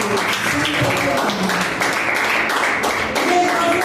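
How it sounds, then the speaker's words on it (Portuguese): A church congregation claps hands together in dense, steady applause that fills the room loudly for the whole stretch, with some voices mixed in. "Pode se assentar, dando uma salva de palmas bem forte para Jesus."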